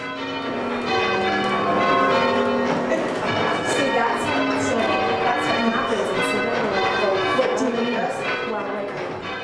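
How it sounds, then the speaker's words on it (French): English change ringing on the church bells of Holy Trinity in Quebec, one ringer per bell, a dense continuous peal of overlapping bell strikes and lingering harmonics, loud and steady throughout. "C'est un système de sonner des cloches qui existe depuis environ 450 ans."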